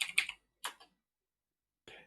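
Typing on a computer keyboard during an Arch Linux terminal session, heard as two short bursts of quick, close key clicks followed by a brief final flurry, with quiet gaps between.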